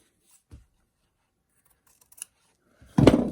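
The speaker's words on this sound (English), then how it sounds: "And then just cut your slits in here." Scissors snip slits in fabric while a no-sew patriotic gnome is being made, giving two faint, isolated cuts followed by one louder, close crunching snip.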